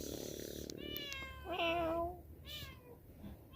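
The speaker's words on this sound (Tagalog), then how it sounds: "May pusa." A cat meows outdoors at night on Mt. Timbak during a walk, giving two or three clear, fairly close mewing calls over quiet background noise.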